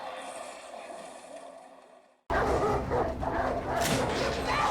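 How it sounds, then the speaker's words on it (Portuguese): Dogs bark in a scene from episode two of season two of The Last of Us, loud and busy against a dense, noisy background after an abrupt cut. "Os cachorros!"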